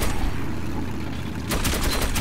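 Enemy gunfire in Metro 2033 Redux, with a dull muffled backdrop that gives way halfway through to a rapid burst of close, sharp shots.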